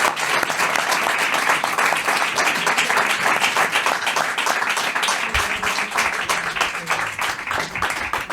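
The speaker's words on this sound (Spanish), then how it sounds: "Pues yo creo que se merece un aplauso" Loud, dense audience applause at a Spanish-language public talk on authoritarianism and imperialism, many hands clapping close and continuously for the whole stretch with a brief low thump partway through.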